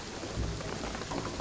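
Steady rain in the video game Shadow of the Tomb Raider hisses across the whole clip, a dense, even downpour with a faint low rumble beneath it and no voices.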